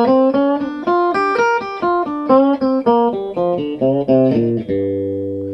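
An electric guitar in a funk and R&B style runs up a blues scale one note at a time, with half-step string bends sliding the pitch upward near the top, played alone, close and bright.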